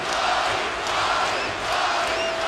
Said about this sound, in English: the crowd just erupting